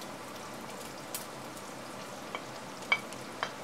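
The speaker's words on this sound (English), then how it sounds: "Fry the onions with the chorizo." Chorizo, garlic and sliced onions fry in a pot with a soft, steady sizzle, faint and close, with a few small pops scattered through it.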